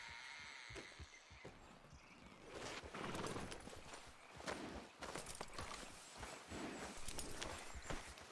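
Horse hooves clip-clop in steady walking rhythm across the Red Dead Redemption 2 game world, fairly close, with ambient sound swelling around the footfalls and no talking.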